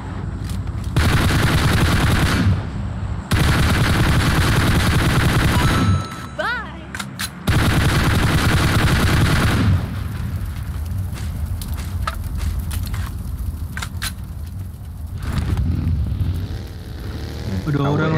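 M4 Joker rifle fire in PUBG Mobile, loud sustained automatic bursts of rapid shots in long stretches with brief pauses, followed by scattered single shots and game effects, with a voice talking over the action.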